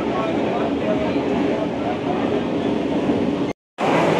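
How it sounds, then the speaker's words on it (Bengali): A loud, continuous rumble and roar from inside a moving Kolkata Metro train, steady throughout, with a brief cut near the end. "মেট্রোয় উঠে পড়েছি"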